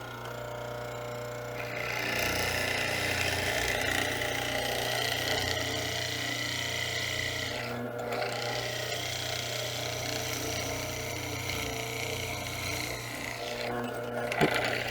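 A power tool cuts into the ends of a wooden mortise, giving a steady mechanical whine that holds for most of the stretch with a couple of brief dips where the cut eases off.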